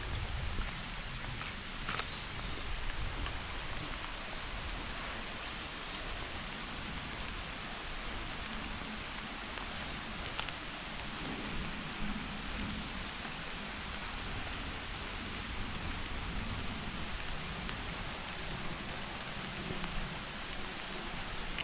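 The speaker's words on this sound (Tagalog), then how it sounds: "Pabor po naman yung ulan sa atin." Steady rain falls continuously on a cassava planting, a soft even hiss with occasional louder drops, and no voices.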